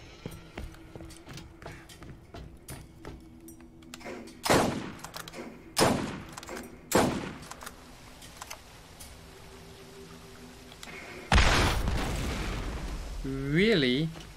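Borderlands video game combat: several sharp gunshots spaced apart, then a big, loud explosion with a rumbling tail, and a brief voice at the end.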